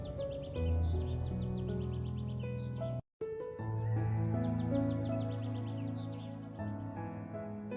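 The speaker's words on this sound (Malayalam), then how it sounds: "അപ്പോൾ പോകുന്ന വഴിക്കിൽ കുറേ പ്രാവുകളുണ്ട് കേട്ടോ." Birds call near pigeons in Mecca, with dense, busy chirping and tweeting layered over a continuous tonal drone from the surroundings and a brief dropout partway through.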